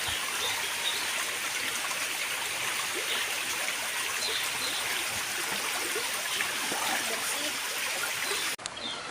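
Clear mountain water rushing along a village stream, a steady broadband flow of burbling and splashing close by, continuous throughout with no pauses.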